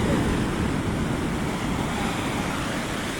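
Ocean waves wash on the Oregon coast in a close, steady roar of surf and rushing water, mixed with some wind buffeting and no voices.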